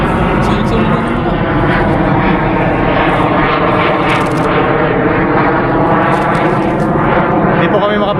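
Jet fighters pass overhead one after another in an open outdoor setting near a forest, producing a loud, continuous roaring rumble that swells and fades, with a voice talking over it.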